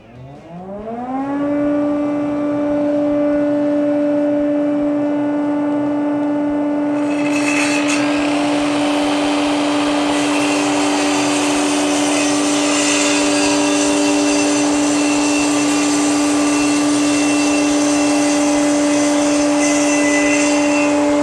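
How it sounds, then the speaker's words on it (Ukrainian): A Procraft KR2100 plunge circular saw spins up with a rising whine into a loud steady motor drone, then bites into laminated chipboard with a harsher, rougher cutting roar that lasts to the end. "Зараз зробимо різ із занурюванням, тобто не будемо перерізати до кінця. Погружна пилка нам таке дозволяє."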